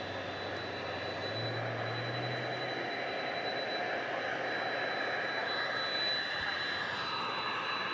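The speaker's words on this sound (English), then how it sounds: "This is going to Cincinnati, flight 102, DHL operated by ABX Air." A DHL cargo jet operated by ABX Air departing DFW Airport at night makes a steady, distant jet rumble with a thin high whine, constant throughout.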